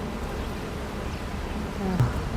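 Honeybees buzz steadily at a hive being inspected in spring, a close, continuous drone with no talk over it.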